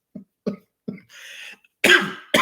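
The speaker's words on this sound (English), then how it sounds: "I don't want to start coughing here" A person coughs repeatedly up close: a few short, dry coughs, a raspy throat-clearing breath, then a loud, heavy cough and another sharp one right after.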